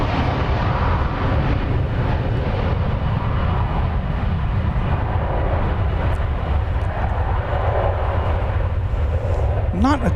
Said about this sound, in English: The Dreamliner.